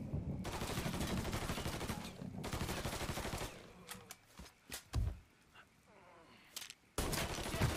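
Gunfire from the video game Mafia III comes in dense bursts of rapid automatic shots and fusillades. Sharp single shots punctuate quieter gaps, with a brief voice in the background.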